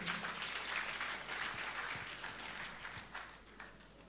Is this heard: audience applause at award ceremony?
yes